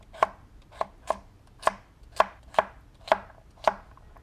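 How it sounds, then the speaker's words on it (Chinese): A knife chops white radish and carrot into small pieces on a cutting board, eight crisp, distinct thuds at an uneven, unhurried pace, close and clear with no talking. "白萝卜、胡萝卜切成小块"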